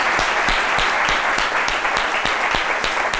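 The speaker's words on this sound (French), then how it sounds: "Merci de l'applaudir." An audience applauds with dense, steady clapping that fills the room, loud and continuous throughout, with no voices standing out.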